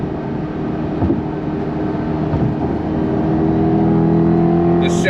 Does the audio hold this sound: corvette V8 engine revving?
yes